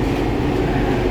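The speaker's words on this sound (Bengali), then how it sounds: "মেট্রোটা যাচ্ছে" Metro train passing on the Taratala to Joka line in Behala: a brief, loud, continuous rumble of cars rolling by at close range.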